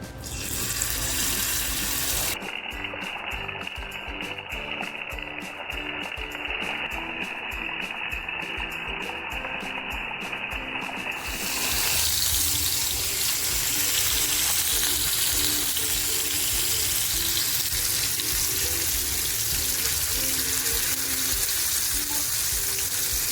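Surmai fish coated in ginger-garlic paste frying in a pan, giving a loud, steady sizzle that runs unbroken throughout, with no talk over it.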